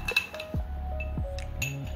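A spoon clinks against a cup while stirring coffee and sugar together, making several bright ringing taps and scrapes close up over a quiet background.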